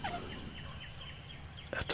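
A wild turkey tom gobbles at a distance near a hunting blind at dawn, a faint rattling call over quiet outdoor ambience, with a closer burst near the end.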